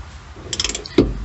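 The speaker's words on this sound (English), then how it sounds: "I've got my half-inch ratchet with my 1⅛ socket. Let's just see if I can loosen up this filter with it." Half-inch ratchet with a 1⅛ socket loosening a fuel filter on a 2016-2022 Chevrolet Colorado 2.8L Duramax, giving a quick run of close ratcheting clicks, then one heavier clunk as it breaks free.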